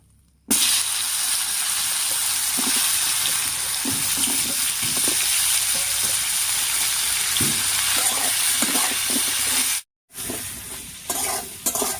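Sliced pointed gourd sizzles steadily in hot oil with salt and turmeric, a close, continuous crackling hiss with occasional stirring clatters, briefly cutting out near the end.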